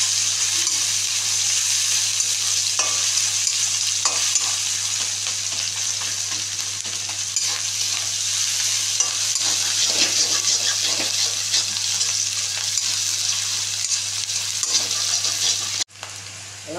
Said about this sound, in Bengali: পেঁয়াজটা, এই কাঁচা লঙ্কা, এগুলোকে আমি একটু কড়াই হালকা করে একটু নেড়ে নেব।